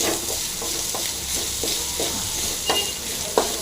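Grated coconut, ginger and salt frying in a pan, a dense close sizzle broken by rhythmic spatula stirs and a couple of sharper scrapes near the end.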